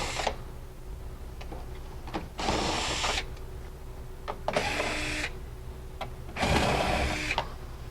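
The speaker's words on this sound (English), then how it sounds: "Next step would be to remove the reefer mounting bracket. Take out 5 screws." Power driver spinning screws out of a reefer mounting bracket, heard as three separate whirring bursts of about a second each, close and clear, with quiet handling noises in the pauses.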